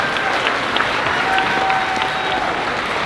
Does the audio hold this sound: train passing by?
no